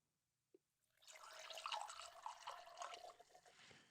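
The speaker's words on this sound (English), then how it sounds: "And pour me just a little." 100 proof Kentucky straight bourbon is poured into a glass, a soft splashing trickle after a single faint click, quiet and close, lasting a few seconds.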